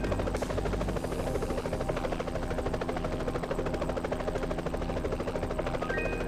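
A helicopter flies in the PS5 game Pilot Flight Simulation, its rotor chopping in a fast, even pulse with a constant engine whine, loud and steady for the whole stretch without speech.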